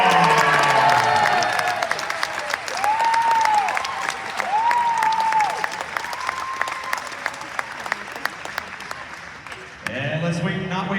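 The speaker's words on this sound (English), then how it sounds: "keep the applause going for Detective Vukovic" Convention panel audience at a Terminator cast event applauds and cheers loudly and continuously for a welcomed actor, a dense crowd roar with whoops over steady clapping, briefly dipping near the end before swelling again.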